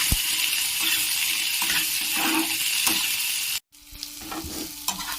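Onions and tomato sizzle and fry steadily in a pan of ghee or butter with occasional stirring scrapes, broken by a brief pause before the hissing resumes more quietly.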